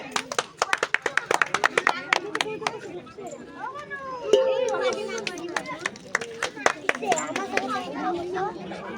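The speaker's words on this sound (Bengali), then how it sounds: "জোরে হাততালি।" A group of village women at a colored-ball throwing game clap loudly in fast, uneven bursts that rise and fall, mixed with lively chatter and voices close by.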